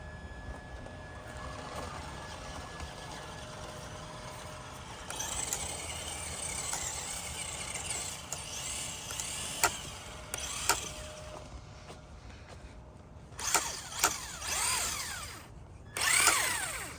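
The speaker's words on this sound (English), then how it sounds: "Now that we're on dirt, let's give this some throttle." A small remote controlled car's electric motor whines and revs in bursts as its wheels spin on dirt, rising and falling pitch with quieter pauses between throttle pulls.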